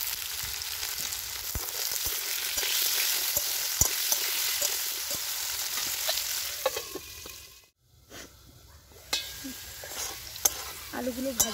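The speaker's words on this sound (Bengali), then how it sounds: "ওই তেলেই দিয়ে দিলাম কেটে রাখা ওই আলুগুলো।" Cut potatoes frying in hot oil with turmeric powder and salt, a continuous close sizzle with scattered clicks of a spoon or spatula stirring, a short quiet dip midway, then sharper sputters and scrapes.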